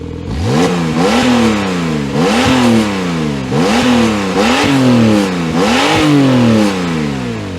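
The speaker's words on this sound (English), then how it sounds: "since we have that sport exhaust here, well, it's probably good to let you hear how all of that sounds" A 2018 Porsche 911 Carrera S with sport exhaust revs hard five times in a row, each sharp rise snapping up and falling away, loud and close with no talk.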